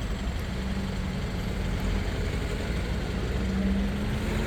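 Night street traffic in Holetown, St. James, Barbados: a steady low rumble of car and truck engines idling and passing, continuous and moderately close, with no voices over it.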